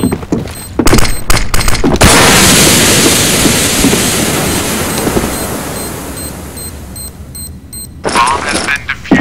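Rapid automatic sniper rifle fire in Counter-Strike, a loud dense burst of repeated shots lasting several seconds with a short burst before it, and brief chatter at the start and end.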